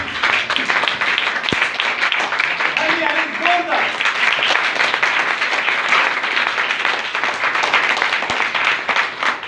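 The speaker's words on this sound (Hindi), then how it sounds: "बेटी के लिए एक बार जोरदार ताली" A congregation at a Christian gathering gives a loud, sustained round of applause for a young girl after her recitation of the Ten Commandments, the dense clapping continuing evenly for about nine seconds.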